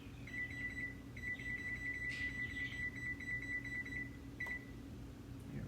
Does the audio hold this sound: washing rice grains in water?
no